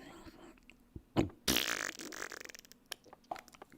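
A voice imitates farts with mouth noises: a short blurt, then a long, loud, sputtering raspberry that trails off into a few smaller pops.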